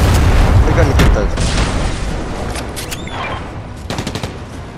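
Gunfire and booming explosions ring out during Fortnite gameplay, a loud dense burst of shots fading gradually, followed by a few sharp scattered reports near the end.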